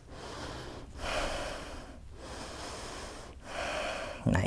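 Slow, deep breaths during a yoga stretch on the floor, with several long airy inhales and exhales separated by brief pauses, close and fairly soft.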